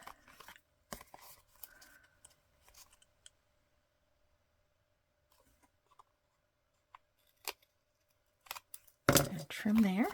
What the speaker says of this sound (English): So I'm going to make a trim there.